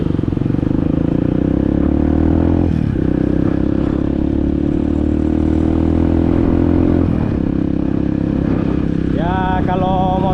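A Kawasaki KLX BF 150 dirt bike, a 150 cc standard motorcycle, revs and rides close by with a strong droning engine tone, brief dips between throttle pulls and a rising rev at the end.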